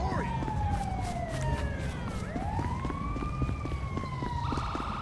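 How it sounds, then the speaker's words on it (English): A wailing ambulance siren from the video game GTA 5 sweeps up and down steadily and fairly close, under a player's voice and game noise. "Oh, we got an ambulance going to save this girl."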